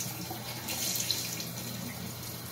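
Tap water runs steadily into a bathroom sink during face washing, a continuous soft hiss and splash close by with no talking.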